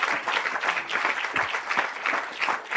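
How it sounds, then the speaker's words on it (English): Audience at a centre's 100th birthday celebration giving a round of applause, dense continuous clapping from many hands, fairly close and steady throughout with no talking. "A round of applause, please,"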